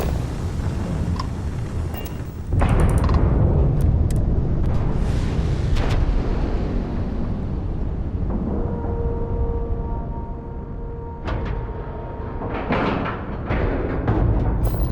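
A spaceship docks with its outer hatch in the video game Starfield: heavy rumbling engine noise with booming mechanical thuds and clanks, a sustained hum partway through, continuous and loud, with no talking.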